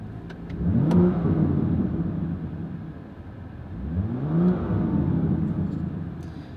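A BMW M2 exhaust blares through two rising revs, each climbing sharply and then settling into a loud, steady engine drone, with no voices present.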